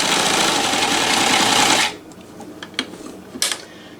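A NELCO L 400 zig zag sewing machine runs loud and steady in reverse for about two seconds, then stops, leaving a few faint clicks and taps close by.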